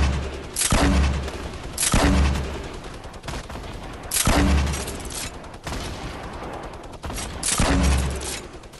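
Fortnite squad match gunfire: repeated bursts of loud, close rapid shots with booming low-end impacts, recurring roughly every couple of seconds and trailing off between volleys.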